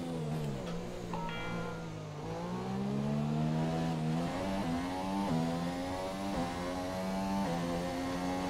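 A Formula 1 car drives in the F1 2017 racing game: a loud, high engine whine rises through the gears in repeated climbing sweeps, each shift dropping the pitch, sustained and close.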